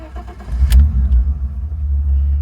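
Classic BMW E30 car engine starting up and settling into a loud, rumbling idle, heavy low-end drone close by with a brief rise at the start.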